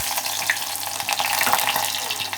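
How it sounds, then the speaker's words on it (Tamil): Chopped shallots sizzle and crackle steadily in hot oil for a prawn and eggplant gravy, a close, continuous frying hiss with occasional pops and stirring. "சின்ன வெங்காயத்தை நறுக்கி பொடி பொடியாக நறுக்கி வச்சுக்கோங்க. அதை இப்போ எண்ணெயில் போட்டுடலாம்."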